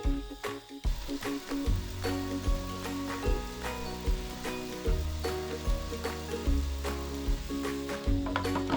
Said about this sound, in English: turn the stove to high and then gently stir it until it starts boiling